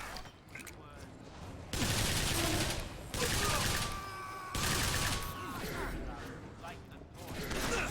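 A burst-fire weapon shoots in the video game Bioshock Infinite: Burial at Sea, with several loud short bursts of gunfire separated by brief lulls, under game ambience and a speaking voice.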